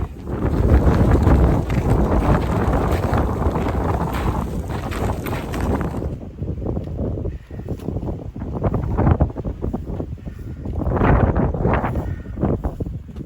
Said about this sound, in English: Getting pretty harsh up here. Super exposed, super windy.